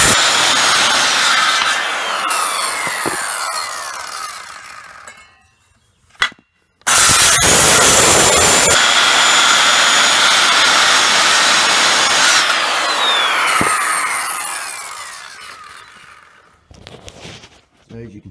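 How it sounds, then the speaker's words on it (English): A skill saw cuts into a wooden beam in loud, sustained passes, spinning down between cuts with a brief pause and a short burst in the middle. "you can make all these cut with a skill saw, no problem"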